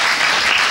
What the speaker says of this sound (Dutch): een applaus voor Dorien Kalingaert